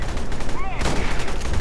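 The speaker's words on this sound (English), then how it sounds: "Oh, and there's gunfire inside," Continuous loud gunfire in the video game Aliens: Colonial Marines crackles in a dense, rapid stream throughout, with a brief whooshing whine mixed in.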